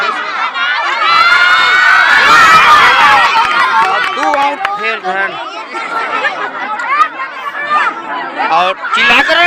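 A dense village crowd shouts and cheers at a kabaddi match in the countryside, many voices loud and close, with excited yelling and chatter rising and falling throughout.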